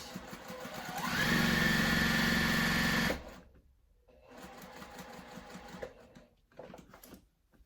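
A Juki sewing machine runs fast in a steady stitching burst of about two seconds, loud and close, then stops; quieter handling and rustling of fabric follow, with no speech.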